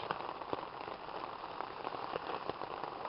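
Steady patter of rain drumming on a tent overhead, dense and continuous with occasional heavier drops, close and fairly loud.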